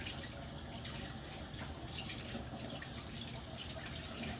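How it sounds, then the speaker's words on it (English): Tap water runs steadily into a sink as hands are rinsed, a continuous close splashing flow with faint drips, no voices over it. "Let me rinse my hands"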